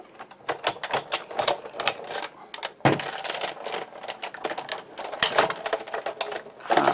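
A Stampin' Up! die-cutting machine is hand-cranked with Ovals Collection framelits and a cutting pad, giving a continuous loud grinding, clicking mechanical rattle with a brief jolt partway through.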